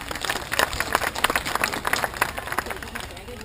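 Audience applause at a bird show at Taronga Zoo in Sydney: a steady crowd clapping for about three seconds, with a dense patter of many hands at moderate volume and faint murmuring underneath.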